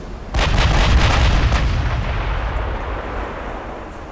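A naval gun salvo in Ultimate Admiral Dreadnoughts, one heavy booming blast with a rumbling tail that fades slowly over a few seconds.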